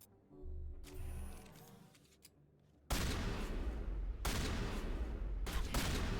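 Shotgun blasts in Mass Effect on Insanity difficulty, coming suddenly after a quiet stretch as loud, harsh, close bursts of fire that run on in a thick barrage.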